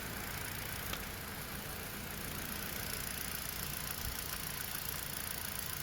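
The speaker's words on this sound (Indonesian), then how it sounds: "Untuk suara mesin ini masih lumayan ya" A used car engine suspected of running on counterfeit oil idles steadily at close range, a continuous low rumble with faint ticking and no pauses.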